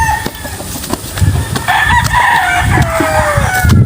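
On a chicken farm, a rooster lets out a loud, drawn-out crow among the clucking of nearby chickens and some background rustling.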